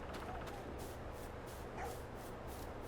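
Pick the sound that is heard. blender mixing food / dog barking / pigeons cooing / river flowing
dog barking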